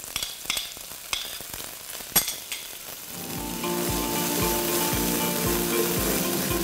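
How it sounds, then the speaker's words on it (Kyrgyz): Onion frying in vegetable oil in a pan. A few light clinks and stirring scrapes come first, then a loud, continuous close-up sizzle takes over and holds steady. "Андан кийин биз пиязды кууруп алабыз бир аз."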